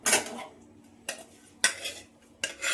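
Roasted masala being scraped out of a pan with a metal utensil: four sharp scraping clatters, the first the longest, separated by brief quiet gaps, close and fairly loud with no talk.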